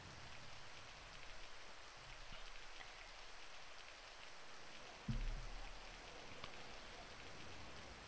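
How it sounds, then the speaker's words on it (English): Steady rain falls in the video game GTA 5, a constant soft hiss of drops hitting surfaces, broken once by a brief low thump partway through. "Sorry the rain happened."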